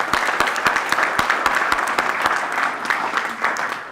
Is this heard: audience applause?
yes